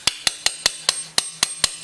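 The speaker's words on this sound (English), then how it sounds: "A lot of times with that shift shaft, you have to tap it in with a hammer." Hammer taps driving the shift shaft into the case of a Honda Foreman 450 engine during assembly: eight sharp, evenly spaced metallic knocks, close and clear, with no talking.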